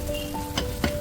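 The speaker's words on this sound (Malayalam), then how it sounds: "ഇനി ഇതിൻ്റെ അകത്തേക്ക് പുതിനയില, മല്ലിയില എന്നിവ ഇട്ട് കൊടുത്ത് നന്നായിട്ടൊന്ന് വഴറ്റിയെടുക്കാം." Mint and coriander leaves sauté in a pan for chicken biryani, giving a steady low sizzle. Two brief stirring scrapes cut through it, and no one talks.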